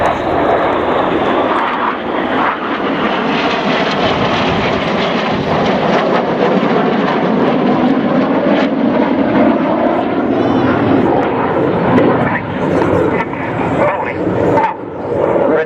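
RAF Red Arrows jets roaring past at an air show in Welshpool, the synchro pair flying inverted; a loud, sustained engine rush that swells and shifts in pitch as the jets pass, with a commentator speaking over it.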